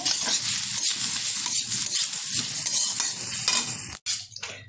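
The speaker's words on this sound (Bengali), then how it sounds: "নারকেলটাও হালকাভাবে ভেজে নেব" A utensil scrapes and stirs grated coconut steadily in a pan over a soft, continuous sizzle as it lightly fries, ending with a few sharper clinks near the end.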